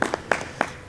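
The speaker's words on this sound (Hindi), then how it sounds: "अभी भी सारे आप लोग मिल करके ताली बजा रहे हैं" An audience at a yoga workshop claps for their director in a few slow, sparse, separate claps, moderately close, with no talk over them.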